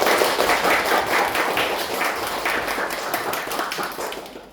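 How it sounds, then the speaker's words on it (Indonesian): A group of students in an Indonesian counselling session claps together in a steady, fairly loud burst that slowly fades, with no speech over it. "Oke, tepuk tangan buat kalian."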